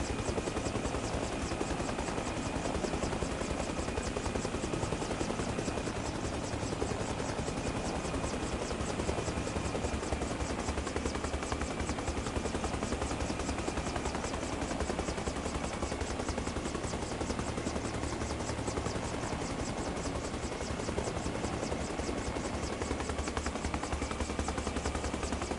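Helicopter in the video game Arma Reforger, heard as a loud, continuous rotor thump and engine drone from inside the aircraft, steady and unbroken for the whole stretch.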